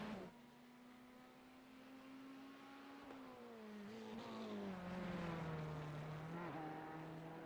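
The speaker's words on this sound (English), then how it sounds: "Which sound just like these beautiful babies. Really deep," GT3 race cars at Mount Panorama in a racing video game, engines idling at deep, low revs: a faint rumbling drone that dips, then swells and rises slightly over several seconds.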